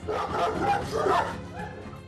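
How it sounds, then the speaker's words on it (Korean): Large dog barking fiercely at another approaching big dog, a dense run of loud, close, agitated barks and yips with whimpering mixed in. "그런데 다가오는 둥이를 향해 맹렬히 짖어대는 곰이."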